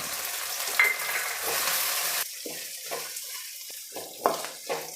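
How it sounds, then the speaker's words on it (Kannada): Ginger garlic paste and chopped capsicum frying in a pan, a loud steady sizzle that drops off partway as the food is stirred, followed by quieter scraping and stirring sounds. "ಈಗ ಎಲ್ಲನೂ ಫ್ರೈ ಆಗಿದೆ"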